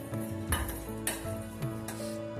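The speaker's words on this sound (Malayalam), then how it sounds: "ഇനി നമുക്ക് ഇതെല്ലാം കൂടെ ഒന്ന് മിക്സ് ചെയ്തിട്ട്" Fish roe being mixed with salt and pepper in a bowl for a Kerala meen mutta omelette, with repeated clinking scrapes of a spoon against the bowl in a soft, uneven rhythm.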